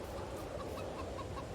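Chickens cluck in a farm setting in Farming Simulator 22, a soft, steady, fairly close stream of fowl murmurs and clucks throughout.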